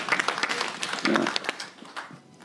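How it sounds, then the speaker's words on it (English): An audience at an African live music industry conference breaks into brief, scattered applause that tapers off quickly. "Guys, like a round of applause for this man."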